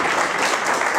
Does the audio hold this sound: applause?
yes